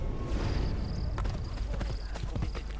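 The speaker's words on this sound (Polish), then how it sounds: "A mój koń, chodź tu." A horse's hooves clip-clop at a steady trot in Assassin's Creed Brotherhood, loud and close over a busy game soundscape.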